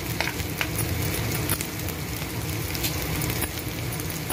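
Loud, continuous sizzling of tempering spices, including broken dried red chillies, crackling in hot oil, with occasional sharp pops and the scrape of stirring.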